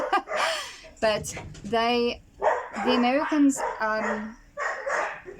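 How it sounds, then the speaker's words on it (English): Several household dogs bark and yelp nearby in quick bursts during play, mixed with a woman's ongoing speech. "please excuse my dogs, they're chasing themselves"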